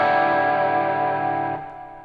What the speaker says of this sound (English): little delay, a little reverb.